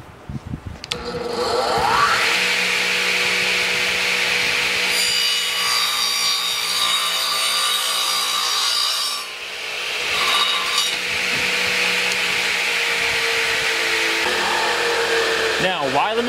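A radial arm saw cutting through wood in a workshop, a loud sustained whining cut with a rising motor tone that dips briefly midway, then resumes steadily until the end.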